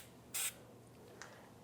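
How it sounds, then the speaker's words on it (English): A single short hiss from an anti-seize spray can coating a front wheel hub during a brake job on a 2012-2018 Nissan Altima, close and brief, followed by a faint tap in an otherwise quiet garage. "You want to take some anti-seize and just give it a spray."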